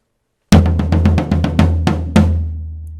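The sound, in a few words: drum fill played on one drum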